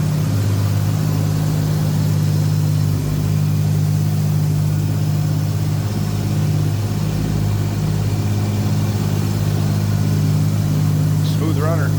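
A 1961 Plymouth Fury two-door hardtop with a Holley four-barrel carburetor on an Offenhauser intake idles smoothly and steadily, a low, even rumble holding constant throughout at close range.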